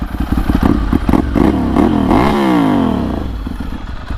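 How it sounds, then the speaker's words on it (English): A Ducati Monster 796 motorcycle engine revs hard, climbing and falling in pitch with a loud, rumbling exhaust close by, alone without talk. "Maybe if you rev it real loud like that right next to somebody, you'll deafen them"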